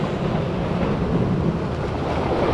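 Continuous loud wash of ocean surf pushing against rocks, with a low, rumbling churn, steady throughout, with wind buffeting the microphone and no voices.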